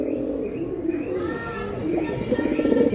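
Giribaz pigeons cooing close by in a soft, repeated, throaty call, with voices in the background.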